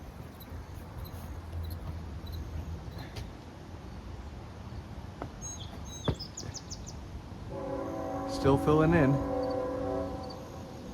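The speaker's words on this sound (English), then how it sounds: "Bloody train." A train passes near a backyard garden, its rumble swelling about two-thirds of the way through as a harmonic horn sounds for a second or two at middle distance, after quieter wind-swept ambience and a brief spoken remark.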